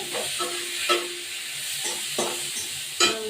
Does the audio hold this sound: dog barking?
no